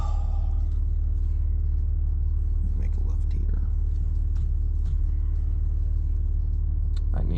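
Steady low engine rumble from a BMW M4 Competition cruising home at night, a constant deep drone filling the cabin with a few faint rustles and brief soft sounds over it.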